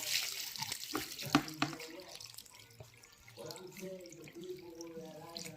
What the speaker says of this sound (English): you get your water and you wash your callaloo at least 2 times